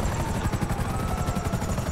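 Helicopter in the video game Grand Theft Auto V, its rotor a steady, loud, rapid thudding chop over broadband engine roar, continuous and close with no talk.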